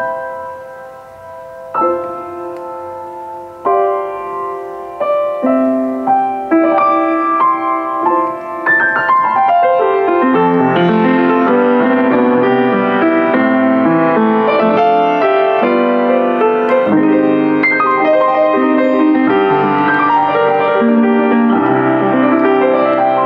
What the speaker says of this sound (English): gives you slightly more volume and a slightly brighter sound like this.